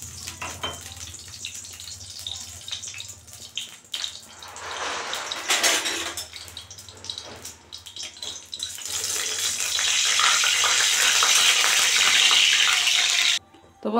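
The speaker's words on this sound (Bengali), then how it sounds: "কড়াই গরম হয়ে গেছে, 3টে শুকনো লঙ্কা দিয়ে দিলাম" Dried red chillies frying in hot white oil in a heated wok, a steady crackling sizzle that swells into a loud, bright hiss toward the end before cutting off sharply.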